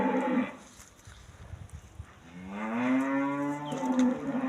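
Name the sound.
Russian breed cow mooing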